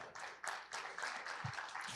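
Steady applause from a fan convention Q&A panel audience, many hands clapping continuously, moderately distant and fairly quiet.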